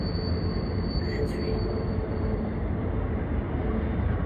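A long freight train rolls steadily past on the Tehachapi Loop, a continuous loud rumble of wheels and cars with a faint squeal partway through and no break in the sound.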